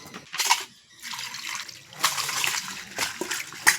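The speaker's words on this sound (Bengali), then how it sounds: "এখন এই সমস্ত পাতাগুলো খুব ভালো করে ধুয়ে নেব।" Leaves being washed by hand in a basin of water, with bursts of splashing and sloshing that come and go, fairly close and loud, with no talk.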